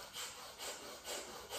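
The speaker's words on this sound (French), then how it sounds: "L'expire est active vers l'intérieur, l'inspire est passive." Forceful, rhythmic exhalations through the nose in a kriya breathing exercise, roughly three breathy pulses about half a second apart, close and soft with passive inhalations between.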